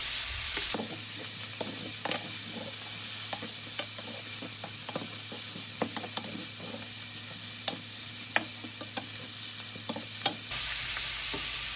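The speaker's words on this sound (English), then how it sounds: "We're gonna brown up the sausages now." Andouille sausages browning in a pan over medium high heat: a steady loud sizzle with frequent short scraping and stirring clicks, no voices.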